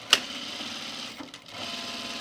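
A sewing machine reinforces the stitching along the rise of men's cotton chino pants, running steadily and close after a single sharp click at the start.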